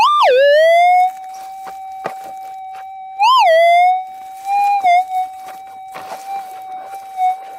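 A Minelab GPX4500 gold detector with a Coiltek Elite coil, sweeping noisy clay ground in Victoria, Australia, holds a steady threshold tone. It swells sharply in pitch twice over a shallow target, then gives softer wobbles, loud and alone.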